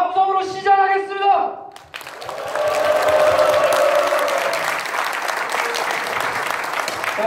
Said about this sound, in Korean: 여기 오신 모든 분들의 입장 박수와 함성으로 시작하겠습니다